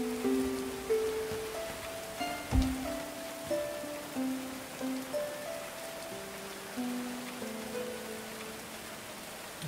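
Steady rain falls in the medieval colony-building game Going Medieval, a constant soft patter under gentle background music, with no talking.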